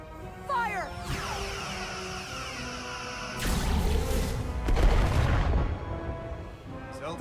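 Starship weapons firing in the Star Trek: Resurgence video game. Chirping sci-fi zaps lead into a heavy booming crash, followed by a second rumbling impact and a fading tail.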